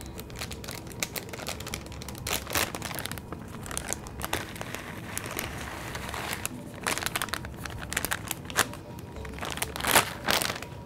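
Shredded Monterey Jack cheese poured from a plastic package, with steady crinkling of the bag and scattered rustles and taps, fairly close and continuous.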